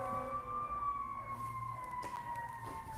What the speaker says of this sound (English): as I'm hearing the sirens in the background